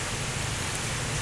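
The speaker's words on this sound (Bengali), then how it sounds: "তো আসেন আমরা একটু দেখি বাইরে কেমন বৃষ্টি হচ্ছে, আবহাওয়াটা দেখি।" Rain falling outside on a rainy morning, a dense, steady hiss of drops on surfaces, fairly loud and unbroken throughout, with no talk.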